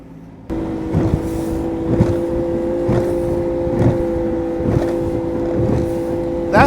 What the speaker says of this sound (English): The old Yamaha. This little motor runs good.